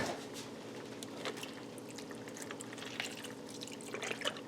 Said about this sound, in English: We're going to add some milk.